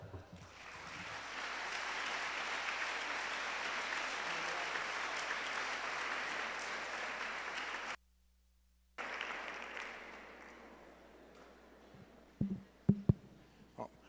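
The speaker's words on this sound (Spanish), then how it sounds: "recibamos con un fuerte aplauso al doctor Alberto Adler" Strong sustained applause from a conference audience welcoming Dr. Alberto Adler at an education talk, broken by a sudden second of silence before the clapping resumes more thinly and fades, with a few thumps at the end.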